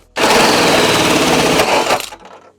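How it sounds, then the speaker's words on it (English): A hole dozer cutting holes into an STI car hood gives a loud, harsh mechanical burst of about two seconds that starts abruptly and then cuts off. "Hole dozer. We need to blow out some big holes."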